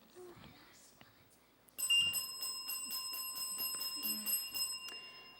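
A bell rings at the end of a TVJ Junior Schools' Challenge Quiz match between primary schools, a bright, sustained metallic tone that carries for several seconds after faint voices.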